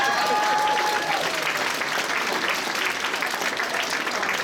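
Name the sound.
audience applause at anime convention masquerade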